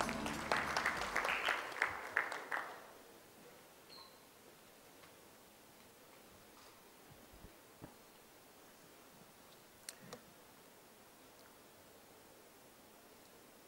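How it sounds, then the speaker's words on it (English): Audience applause for a guest at an inaugural event on Gujarat's food and pharma sector: a short burst of crowd clapping for about two seconds, then it dies away into quiet room ambience with a few faint clicks. "A round of applause for our guest."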